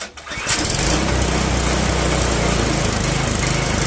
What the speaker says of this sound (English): So, full throttle, John. Okay, and let's start it up.